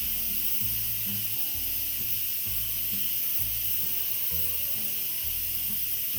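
An Instant Pot releases its steam pressure with a loud, steady, continuous hiss that fills the whole stretch, with a low mechanical hum underneath.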